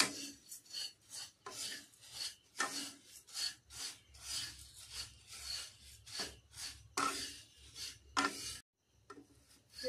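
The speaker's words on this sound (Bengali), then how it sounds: "চিড়েটা মিডিয়াম আঁচে রেখে ভেজে নিতে হবে।" Flattened rice (chira), 200 grams, dry-roasting over medium heat in a pan, stirred with a spatula in repeated rasping, rubbing scrapes at a steady rhythm, close and fairly loud, with a short pause near the end.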